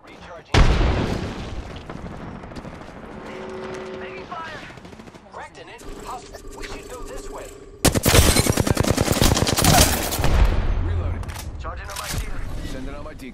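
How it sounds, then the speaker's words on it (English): Enemy gunfire in the battle royale game Apex Legends, with bursts of automatic fire and booming shots. The firing grows loud and dense in the second half, and in-game voice callouts can be heard throughout. "The enemies are shooting at me."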